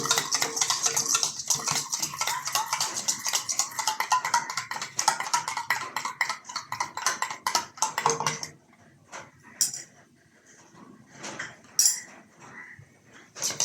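A spoon rattles quickly against a bowl while an egg is beaten, a dense run of clinking strokes for about eight seconds, then a few scattered taps and knocks.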